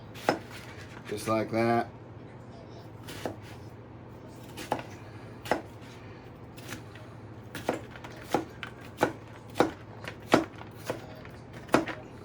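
A knife chops food on a cutting board in a home kitchen, with steady, close, sharp thwacks that grow quicker toward the end, plus a brief scraping rattle near the start and a short spoken remark.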